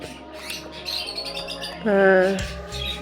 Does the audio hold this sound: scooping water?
no